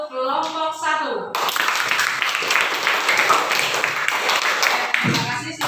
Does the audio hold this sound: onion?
no